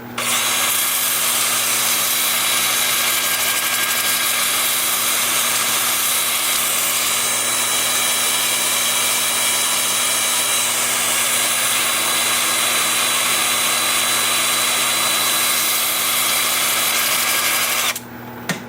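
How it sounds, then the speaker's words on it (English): Wood lathe running in reverse at about 350 rpm while a tool works a root-and-rock wood piece, a loud steady whirring grind with a constant hum, cutting off abruptly near the end. "with the lathe spinning at about 350 in reverse"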